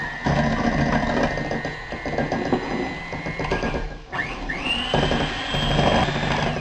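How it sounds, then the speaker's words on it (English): An electric mixer whips egg whites in a bowl, a loud close motor whir with a rattling beater texture. The pitch dips and recovers partway through as the load shifts. "Now we're just going to start whipping this until it's stiff."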